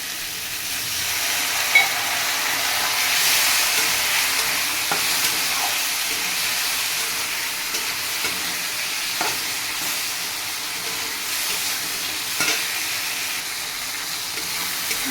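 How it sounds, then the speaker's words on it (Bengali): Spice paste with a little water frying in a pan for a potato and tomato curry, a steady close sizzle and hiss with intermittent scraping stirs and light clinks throughout, no talking. "ভালো করে নিয়ে নেবো মশলা কষানো জন্য সামনে একটু জল দিয়ে দেবো"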